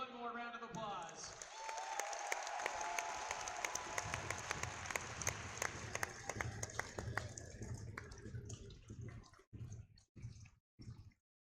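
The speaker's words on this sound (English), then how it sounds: "Give them one more round of applause." Crowd applause at a BYU vs Weber State ice hockey game in an arena, dense sustained clapping that thins out into scattered claps before stopping.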